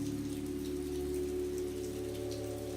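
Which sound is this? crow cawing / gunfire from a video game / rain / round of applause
rain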